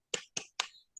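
Schoolchildren in a classroom perform a rhythmic 'tepuk semangat' clapping routine: three crisp, evenly spaced claps followed by a faint fourth, quiet and close with no talking.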